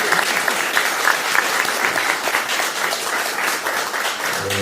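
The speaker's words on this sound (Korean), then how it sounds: "김경 의원님의 통큰 양보에 대해서 큰 박수를 보내주십시오" Steady, dense applause from an audience at a Korean political party gathering, a continuous clapping roar that holds at full strength for several seconds with no talk over it.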